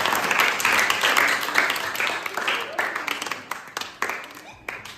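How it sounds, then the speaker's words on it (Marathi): Applause for a girl named Anuja during a children's puzzle game, a burst of clapping from a small group that fades into scattered, uneven claps. "हो, अनुजासाठी टाळ्या वाजायचा"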